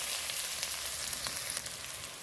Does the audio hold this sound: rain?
no